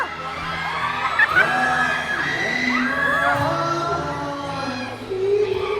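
A concert crowd in a mall venue shouts and sings along loudly and continuously, a dense roar of many voices with whoops and yells and no pause.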